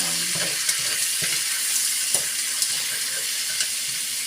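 Garlic stir-frying in a pan for sweet spicy mussels, a steady loud sizzle with occasional light clinks and scrapes of stirring.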